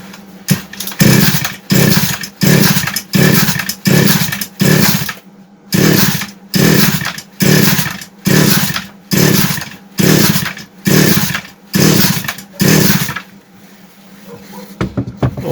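Goodluck 4500M gasoline chainsaw pull-started with the choke closed, heard as about fourteen loud, rhythmic rope pulls that each bring a brief cranking roar, close and alone, before the engine sputters into a short run.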